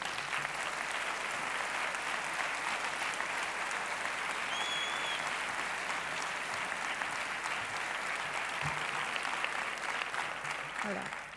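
A civic participation event audience claps steadily for over ten seconds, a dense, even wash of applause from a room full of people, with no speech over it.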